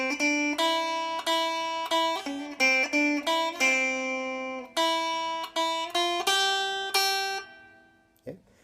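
A guitar plays the Itsy Bitsy Spider melody as a run of plucked single notes with clear attacks and short decays, close and alone, ending with a faint soft thump.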